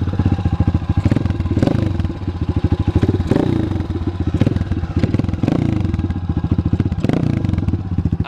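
A 2005 Honda CRF 230 dirt bike with a BBR exhaust idles and is blipped nearby, its single-cylinder engine chugging in a fast, loud, even pulse with periodic revs rising above the steady beat.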